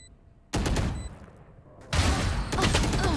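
Gunfire in Valorant during a full Kay/O match: two loud bursts of shots, one just after the start and a denser, longer volley from the middle to the end, with no quiet between the later shots.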